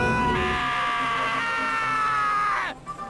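A long, shrill scream from a character in the Danganronpa video game holds steady for over two seconds, then drops sharply in pitch and cuts off, followed by a brief quiet tail.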